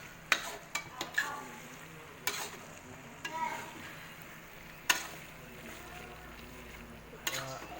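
Shredded chicken rendang frying in a pan while being stirred, with a quiet steady sizzle punctuated by irregular sharp scrapes and clacks of the spatula against the pan, and faint voices in the background.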